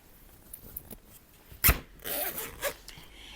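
A zipper on a fabric sewing organizer bag is drawn shut in a few quick, close rasping pulls, the sharpest in the middle, with no talking.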